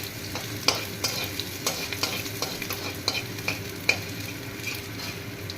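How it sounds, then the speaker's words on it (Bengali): Bay leaf and whole spices sizzle gently in a pan over a low gas flame, a soft continuous frying hiss broken by regular clicks and scrapes of a stirring spoon, close-up and without talk. "এবার হালকা একটু ফ্রাই করে নেব"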